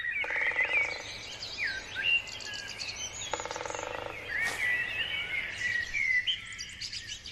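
Moor frogs call in a German green belt wetland, their bubbling croaks recurring in steady pulsed bursts, mixed with bird chirps and tweets at moderate distance under an even outdoor background.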